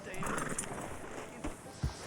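A horse in a western video game whinnies near the start, followed by a few sharp hoof thuds, with a voice talking over the top.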